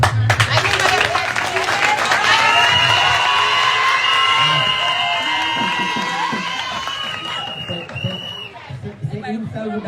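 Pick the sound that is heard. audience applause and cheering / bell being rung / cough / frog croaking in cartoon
audience applause and cheering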